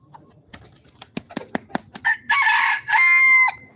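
Backyard farm hens settling at roost, a black hen among them, give a quick string of sharp clucks that rise into two long, loud squawking calls, close by and with no voices.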